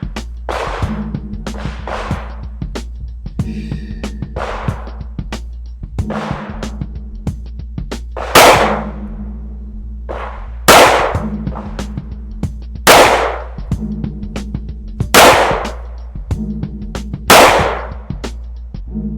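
A handgun fires a string of sharp, loud shots during a 3-yard shooting drill at a range, the cracks spaced irregularly with short pauses between them and no talking.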